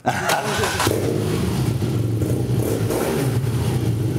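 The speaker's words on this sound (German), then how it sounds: "Auspuffanlage, die müssen wir uns jetzt noch einmal anhören." A heavily modified BMW R nineT motorcycle with its aftermarket exhaust fires up close by, catching with a sharp burst and then running loud and steady, its deep exhaust rumble holding with slight revving throughout.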